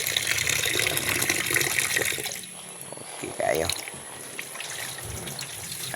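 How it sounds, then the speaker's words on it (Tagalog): Water running from a tap for rinsing, a steady hiss that fades midway into softer trickling and splashes, with a person briefly talking. "Pagbuman sa niya tubig para nahinlo."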